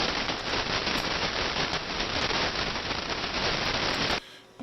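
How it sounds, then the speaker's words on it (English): HF radio band noise with no signal, received on the VK3AML Kiwi SDR at 6 kHz bandwidth: a loud, dense, crackling hiss with rapidly fluctuating level that cuts off abruptly near the end. "background noise with no signal, on the VK3AML Kiwi SDR, set to 6 kilohertz bandwidth"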